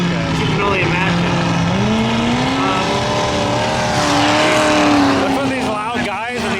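Loud truck engines rev and roar continuously at a mud bog event, rising and falling in pitch, close by and dominating the scene.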